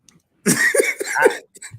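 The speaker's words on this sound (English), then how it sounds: "As you cough your lungs out" A burst of harsh, raspy coughing, several rough hacks in quick succession, close and loud.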